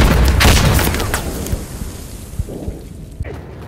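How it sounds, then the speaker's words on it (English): A grenade blows up in Insurgency: Sandstorm as a loud, deep boom that rumbles and fades, followed by a few scattered thuds and distant pops. "That's a fucking grenade!"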